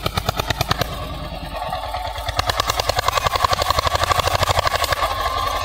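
An Eicher 241 tractor engine chugs steadily at close range, its rapid pulsing beat growing louder and more pronounced as the tractor comes around, with no talking over it.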